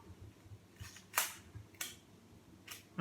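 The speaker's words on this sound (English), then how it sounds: "the shutter seems to work" Olympus 35 RC film camera shutter firing, three crisp clicks spaced apart over quiet handling noise, close and faint, with no talk.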